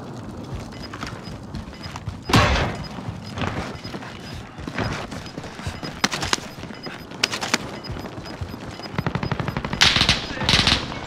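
Gunfire in the Warzone battle royale game: repeated bursts of rapid automatic shots, some close and loud, others lighter and scattered, with sharp single cracks between, under game voice chatter.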